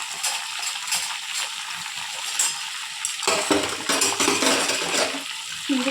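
Tomatoes and a whole unpeeled garlic bulb being stirred together in a pan for coriander chutney: scraping, clinking spoon-on-metal strokes with a faint sizzle, sharper and louder in the second half.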